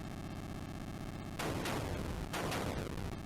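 Cannon fire in the Atari 8-bit game Atlantis: two sharp, harsh electronic blasts of noise, each fading out over a continuous buzzing game tone, loud and without speech.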